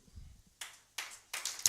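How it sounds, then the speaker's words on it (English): A seminar audience breaks into scattered applause in a few short bursts. The clapping is moderately close and builds slightly toward the end, with a low murmur at the start. "Please, if you're clapping, clap."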